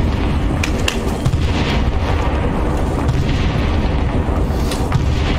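Continuous rumbling booms of artillery fire in the Arma video game SOG Prairie Fire, loud and sustained with overlapping distant blasts and a few sharper reports, no speech.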